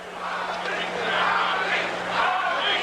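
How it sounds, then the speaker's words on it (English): An arena crowd at the Muhammad Ali vs. Larry Holmes heavyweight title fight chanting Ali's name, a loud rolling roar that swells and dips in waves and fills the space, heard at a distance. "They're chanting Ali, Ali, Ali."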